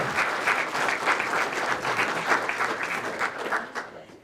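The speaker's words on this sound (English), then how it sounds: "Let's give her a big round of applause." A hall of fame bowling banquet audience applauds steadily, a dense, sustained wash of clapping that fades out near the end.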